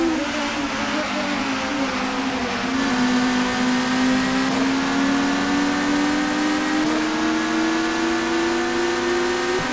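A touring car engine racing at Snetterton in the video game TOCA 2, a loud sustained close whine rising steadily in pitch through a long gear, with a brief shift near the end and no talk.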